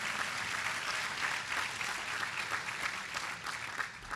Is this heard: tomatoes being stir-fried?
no